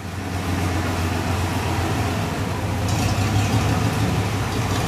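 A 1958 Chevy engine idles steadily as the car pulls up into the back of a shop, a continuous low rumble with slight variation and no talking.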